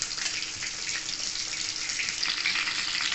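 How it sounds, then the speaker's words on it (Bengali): Chicken pieces fry in hot oil for a restaurant-style chilli chicken, a steady, close hiss and sizzle with no talking. "চিকেনগুলো ভালো করে উল্টিয়ে পাল্টিয়ে আমি ভেজে নেবো লাল লাল করে।"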